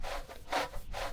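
In the video game The Long Drive, a brush scrubs rust off a car with a few quick rasping strokes, close and distinct, with no talking.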